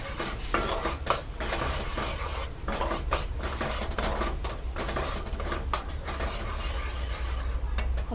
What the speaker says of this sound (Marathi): मिक्स करून घेऊ.